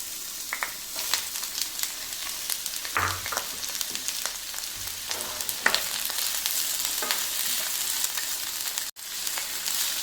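Sliced onions and green chillies fry in a pan for masala dosa filling, a soft, steady sizzle broken by scraping stirs and clinks from a spatula, fairly quiet and close, with no talking.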